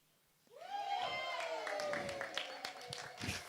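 An audience at a ribbon-cutting ceremony breaks into scattered clapping, joined by raised voices and cheering that rise suddenly and carry on at a moderate level.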